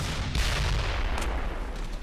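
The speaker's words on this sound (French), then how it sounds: "c'est le canon" A heavy booming cannon blast bursts out in the video game Brothers In Arms: Hell's Highway, followed by rumbling echoes and a second sharp crack amid noisy game action.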